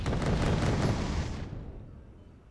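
Autocannon fire in the Wargame: Red Dragon video game sounds as a loud, booming burst of rapid shots that rolls away into a fading rumble over about two seconds.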